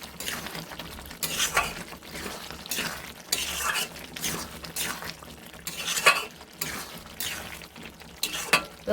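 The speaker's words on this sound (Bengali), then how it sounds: "আলুর দম ওই দেখো কড়ার মধ্যে টকবক করে ফুটছে" Aloo dum with garam masala and ghee cooks in a kadai, with a soft simmering sizzle broken by a series of rhythmic scraping stirs of a utensil against the pan, fairly quiet.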